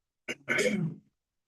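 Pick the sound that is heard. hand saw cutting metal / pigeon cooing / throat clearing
throat clearing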